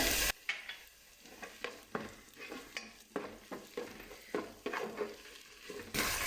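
Tomato paste and carrots sauté in a pot for a green lentil dish, a low, steady sizzle under repeated rhythmic scrapes and taps of a stirring spoon.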